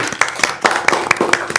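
Meeting attendees at a county work session break into applause, a dense burst of sharp hand claps carrying steadily across the whole moment at close range, with no talk over it.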